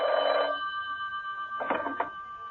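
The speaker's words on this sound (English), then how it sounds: "The telephone rang." A telephone bell rings in a loud, close burst at the start, then a few fainter broken tones follow, with no one speaking.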